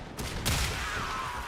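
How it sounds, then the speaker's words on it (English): A Warframe weapon goes off at close range in one sharp burst, and the crackle and echo trail off after it. "I have to get like up next to them and then fire."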